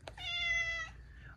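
Aslan the cat gives a single clear, drawn-out meow close up, fairly quiet against a low background hum.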